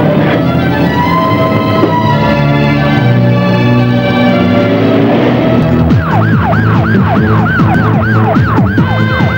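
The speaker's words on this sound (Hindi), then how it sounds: "यार ये तो पुलिस के सायरन की आवाज लगती है।" A loud police siren wails close by with layered rising and falling tones, switching midway to a rapid yelping pattern, continuous and alone with no voices over it.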